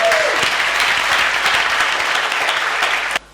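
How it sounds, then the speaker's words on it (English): A church congregation claps together in a sustained, dense burst of applause during a worship service, loud and steady for about three seconds before stopping abruptly; a brief vocal tone sounds at the very start. "Give a clap offering to the Lord."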